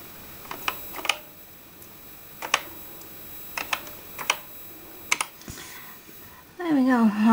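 Separate key presses on a repaired Sinclair ZX Spectrum +2 keyboard, a dozen or so sharp, close clicks in small uneven clusters over a quiet background, with a voice coming in at the end.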